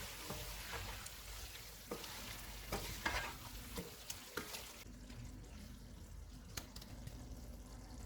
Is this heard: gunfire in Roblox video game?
no